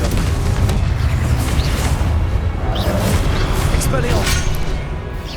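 A fiery Confringo spell bursts in Hogwarts Legacy as a deep, booming explosion rolling into a continuous low rumble with scattered crackles, loud and close throughout.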